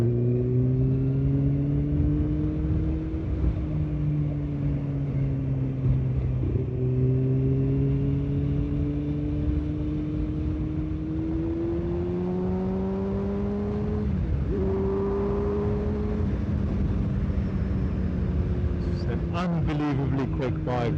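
A 2015 Kawasaki Ninja ZX-6R 636 sports bike pulls hard through several gears, each rising engine whine cut by a brief dip at the shift, loud and continuous, with someone talking over it throughout.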